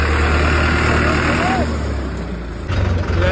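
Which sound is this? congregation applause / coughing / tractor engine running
tractor engine running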